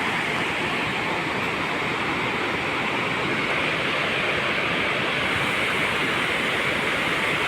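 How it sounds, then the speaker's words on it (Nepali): A swollen river rushes in a dense, unbroken roar, loud and steady throughout with no pauses or other sounds. "खोला चाहिँ यस्तो बढिसकेको रहेछ"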